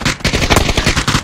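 Rapid bursts of automatic gunfire in a shooting video game, loud, close and densely repeated over a brief stretch.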